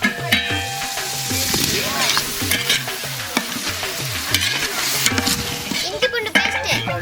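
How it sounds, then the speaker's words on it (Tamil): Onions and tomatoes fry in a pan for a village-style jackfruit biryani, with loud close sizzling, repeated rhythmic stirring scrapes and occasional metal clinks. "வெங்காயம் வதங்கிட்டு தக்காளியை போட்டுக்கலாம்."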